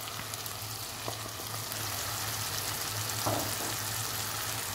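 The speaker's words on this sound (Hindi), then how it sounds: "उनको 2 से 3 मिनट के लिए भूनना है अच्छे से मसालों को।" Powdered spices, salt, red chili, garam masala and turmeric fry in a pan for dhaba-style urad dal, a continuous close sizzle with a faint low hum and occasional soft stirring knocks.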